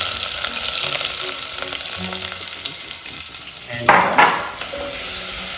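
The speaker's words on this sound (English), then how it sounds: "after adding bay leaves, you straight away take this onion with it" Sliced onion frying with bay leaves in a pan, a dense continuous sizzle with light stirring clicks, then a louder scraping stir burst near the end; one brief word spoken.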